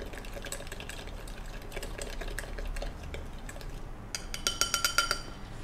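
Iced instant coffee being stirred: a spoon clinks rapidly against the glass and ice, quiet at first with liquid swishing, then a brighter burst of quick metallic clinks near the end.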